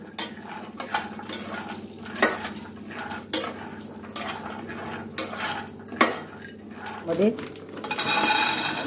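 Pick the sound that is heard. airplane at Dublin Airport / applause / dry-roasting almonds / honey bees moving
dry-roasting almonds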